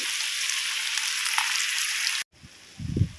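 Steady, close sizzling of fish frying crisp in hot mustard oil, cut off abruptly near the end, followed by a soft low thump or handling noise.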